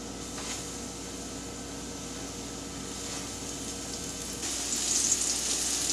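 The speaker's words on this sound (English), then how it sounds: "I'm going to start putting the medallions in the pan, and we're going to pan fry them for about, I don't know, 2 or 3 minutes on each side" Venison medallions pan fry in a hot pan, a steady close crackling sizzle that carries throughout and swells louder with a brighter hiss near the end.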